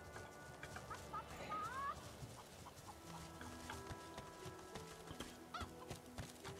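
Chickens cluck faintly in a fantasy role-playing game, Divinity: Original Sin 2, in a tavern area, sparse short clucks and a brief squawk over quiet ambient game sound and scattered soft hoof-like knocks.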